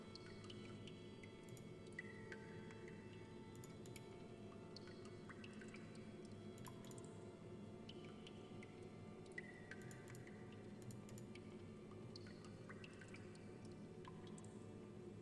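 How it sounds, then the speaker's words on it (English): A constant soft dribbling, dripping texture in the soundtrack of the Metru Nui Online Game, with scattered wet ticks and squishes over a low steady drone throughout. "The soundtrack has this constant, like, dribbling sound."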